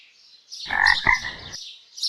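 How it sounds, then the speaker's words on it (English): A cartoon frog from a kids' animal-sounds game lets out a single loud, raspy croak lasting about a second, with near silence on either side. "Frog."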